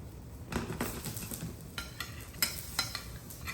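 Eggplant sizzles in a pan as a utensil pushes it around, giving a run of close scraping, clinking stirs over a steady frying hiss.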